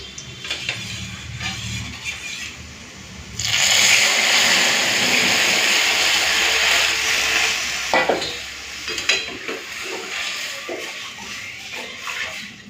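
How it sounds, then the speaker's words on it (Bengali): Lentils tip into a pan of onions fried until red, setting off a sudden loud sizzle that swells and holds for several seconds before settling back to a softer frying hiss, near and without talk. "পেঁয়াজটা লাল করে ভেজে নিয়েছি এখন ডালটা দিয়ে দেবো"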